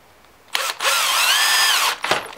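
A power drill drives a screw into a wooden frame with a sustained high whine that rises and strains in pitch as the screw bites, bracketed by short trigger blips, close and loud.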